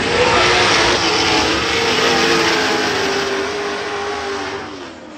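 A race car drives its run in a race final, its engine a loud, continuous drone held high and close before fading slightly as it moves off, with no talk over it.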